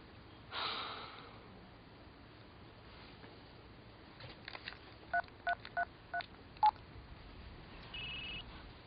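A telephone number is dialed in a quiet room, with a short run of about six distinct keypad tones spaced evenly. Faint breathing and a brief rustle come before the tones, and a soft tone is heard after them.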